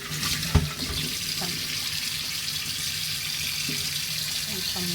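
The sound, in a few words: washing glass jars under running tap water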